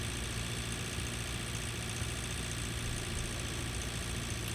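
A heavy tractor engine in the farming game Pure Farming 2018 idles with a steady low rumble and vibration, continuous and fairly loud throughout, with no talk over it.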